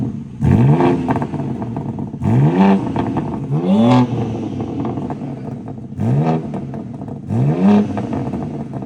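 A BMW G82 M4 fitted with a Dinan X-pipe mid-section exhaust revs five times in sharp bursts, each rising quickly and then falling back to a crackling idle. The blips are close and loud, with no talk.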